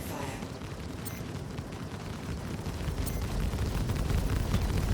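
Friendly weapons fire from a light fighter striking a Carrack ship in Star Citizen, heard as a dense, continuous rumbling barrage of booms and crackles that swells slightly louder toward the end.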